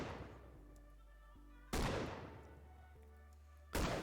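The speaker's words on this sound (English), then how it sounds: "that is definitely sniper sound" Two sniper rifle shots in a video game, each a sudden loud crack with a long decaying boom, spaced about two seconds apart over a low electronic hum and faint game tones.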